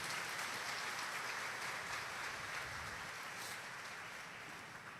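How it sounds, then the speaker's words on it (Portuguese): Congregation at a Catholic Mass clapping together in a church chapel, a steady dense wash of hands that fades slightly toward the end, fairly distant and soft. "Dá uma salva de palmas para Jesus"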